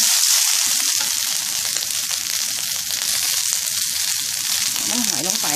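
Sunflower sprouts stir-fried with oyster sauce in a pan give a loud, steady sizzle with scraping stirs throughout, close and continuous with no talk.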